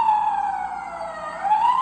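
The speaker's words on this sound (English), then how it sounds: "every single fire engine should have your classic sirens" A loud wailing fire engine siren on an LGB 22330 model fire locomotive with Zimo sound decoder sweeps down and back up in pitch, close and continuous, with a faint engine rumble underneath.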